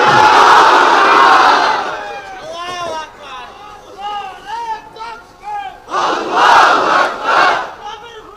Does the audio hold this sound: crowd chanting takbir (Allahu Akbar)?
yes